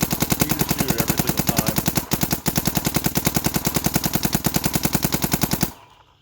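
Dye M3+ paintball marker firing a rapid, steady stream of sharp pops close by, aimed at a bucket about 60 feet away, with a brief hitch in the middle before the string stops.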